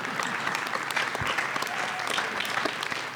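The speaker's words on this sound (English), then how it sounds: "go ahead and applaud" An audience at a documentary screening and panel discussion applauds with steady, sustained clapping from many hands, a dense crackling texture at an even loudness throughout.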